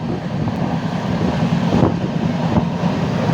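A passenger train runs between Kollam and Kayamkulam, heard from inside as a steady, loud rumble and rattle with wind-like roar throughout and a few brief surges, with no talking.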